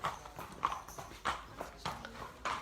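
A big horse walks on a hard surface, its hooves clip-clopping in a slow, uneven rhythm, fairly faint and somewhat distant.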